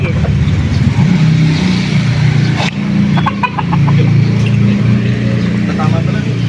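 Chickens clucking nearby along a rural roadside in North Gattaran, with a running vehicle engine droning underneath and people chatting over it.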